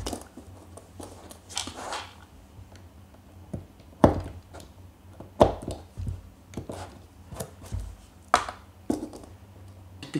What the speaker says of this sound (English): we're going to chop them into twos, chopping quite close to the edge